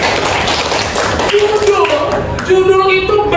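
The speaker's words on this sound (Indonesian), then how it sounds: "tepuk tangan untuk Zulaika" Classroom applause for a student in an Indonesian language lesson, a short burst of clapping mixed with overlapping voices of children and a teacher.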